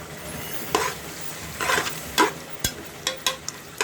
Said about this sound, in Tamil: இப்போ நம்ம கடலெண்ணெய் ஊற்றினதுக்கப்புறமா நல்லா வதக்கணும்